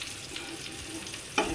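Eggs and potatoes fry in oil in a kadai, giving a quiet, steady sizzle with a few soft stirring scrapes and one sharper clatter near the end.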